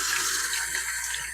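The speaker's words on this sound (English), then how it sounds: "I'm going to wash my hands." Water runs steadily from a tap at a sink during handwashing, a close, continuous hiss with no pauses.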